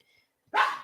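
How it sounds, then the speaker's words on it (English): A single dog bark, loud and close, bursts out after a near-silent moment with only faint background tones before it, heard during a live tennis play-by-play stream. "Sorry for the barking."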